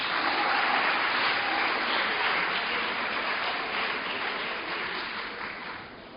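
An audience at a community event in Greater Accra claps steadily, a dense wash of applause that fades slightly toward the end.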